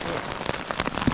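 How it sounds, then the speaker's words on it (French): Steady rain patters on a tent close by, a dense hiss with scattered louder drops, no voices. "et ça pleut."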